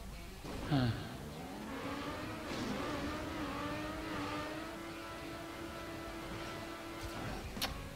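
Car engine in the racing game Trackmania Nations Forever, a moderately quiet engine tone rising in pitch as it accelerates, then holding a steady drone with a few brief shifts, plus a short squeal near the start.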